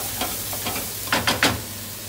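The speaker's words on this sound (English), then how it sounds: "Just going to bring that up to the boil and just let that reduce and cook into the beef." Red wine boiling and reducing with beef in a pan, a steady close sizzle and bubble with a few stirring scrapes and clacks near the middle.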